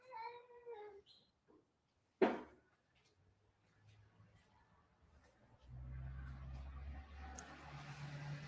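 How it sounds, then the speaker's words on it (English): Unhappy cat giving a few wavering meows near the start, followed by a sharp bang, then faint rustling and low engine-like rumble in a garage setting. "He is not a happy kitty right now."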